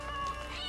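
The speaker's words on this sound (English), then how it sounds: "Oh, meow. What's the matter?" A cat meows in the video game Assassin's Creed Shadows, a single short, clear, close meow over steady game background sound.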